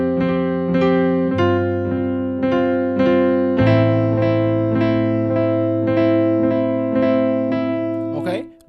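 Piano playing a second verse variation of a song, steady repeated chords and bass notes ringing close and clear for several bars with no talking.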